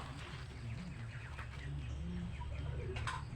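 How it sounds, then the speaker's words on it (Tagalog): Pet pigeons cooing softly in a cage, low rolling coos repeating under a steady background hum, with a few faint higher chirps. "Tingnan yung mga birds."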